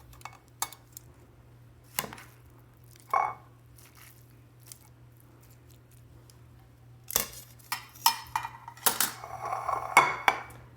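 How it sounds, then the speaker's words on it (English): Spaghetti squash topped with butter and Italian seasoning is served onto a plate with utensils, making scattered scrapes and sharp clinks against the dish that grow busier toward the end, in an otherwise quiet room. "So I'll put some spaghetti squash on my plate."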